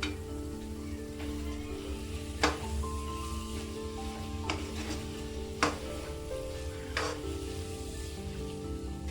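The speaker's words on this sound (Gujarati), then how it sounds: "હવે આપણે આને બરાબર મિક્સ કરી લઈશું" Carrot halwa stirred in a pan gives a low, steady sizzle with a few distinct scraping knocks of the spoon against the pan at irregular intervals.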